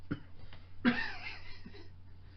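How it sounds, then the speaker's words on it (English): A single quiet cough, preceded by a faint breathy sound, with soft room noise and a slight throat sound afterward. "That was a cough, sorry."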